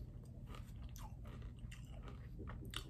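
Brittle, crunchy taffy being chewed at close range, giving repeated crisp crunches and bites over a steady low background hum, with no talking.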